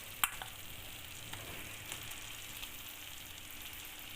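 Boiled rice being stir-fried for street-style egg fried rice, a steady soft sizzle with one sharp scrape at the start and faint stirring clatter.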